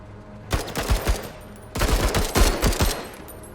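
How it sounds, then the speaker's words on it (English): A rotary machine gun fires in the video game MENACE, coming as two close, loud bursts of rapid shots with a short pause between them. "that rotary MG has been a slight disappointment, but I'm obviously not using it right."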